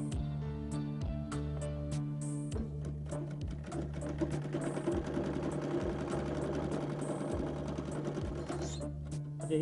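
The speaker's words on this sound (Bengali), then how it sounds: "এইভাবে সেলাই করতে হবে।" An electric sewing machine stitches a girl's frock with a steady, fast mechanical whir and periodic knocks of the needle, running continuously and close by with no talking.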